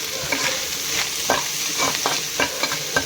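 Small prawns frying in a home kitchen pan, a steady close sizzle broken by repeated scraping stirs of the spatula, with no voices.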